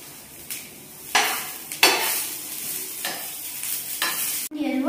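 Vegetables fry in a hot pan on a tawa while a utensil stirs them in repeated scraping strokes over a steady sizzle, with a brief clink of a utensil near the end.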